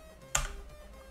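A single sharp click of a key pressed on a BBC Micro computer keyboard, heard close over a faint, steady electrical hum.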